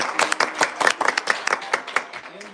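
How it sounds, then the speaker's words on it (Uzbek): Wedding guests clap in an uneven, lively patter of sharp hand claps that carries on steadily, close by, with a faint voice near the end. "Qarsaklar."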